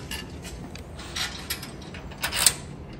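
Washers being fitted onto bolts while installing a MEGA robot: quiet metallic clinks and small mechanical ticks, with a louder cluster of clicks near the end, alone with no talk.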